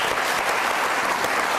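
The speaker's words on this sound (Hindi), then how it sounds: "बहुत सारी तालियां इस वक्त के लिए।" Studio audience applause on a Pakistani comedy talk show, a dense, steady wash of clapping filling the whole stretch without a break, moderately loud and close.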